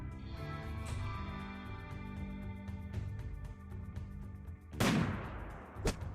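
Gunfire in the colony-sim video game Rimworld: a few sharp, spaced shots ring out over a steady background music bed, with one louder burst near the end, no talk.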